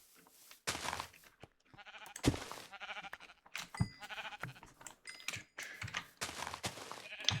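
Sheep bleat in short, scattered calls during a Minecraft-style UHC game, mixed with clicky keyboard and game noises at low level, with no talk over them.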